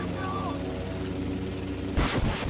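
A missile explosion in the video game Battlefield V, a sudden loud blast near the end after a steady mechanical drone, with a second thump following closely.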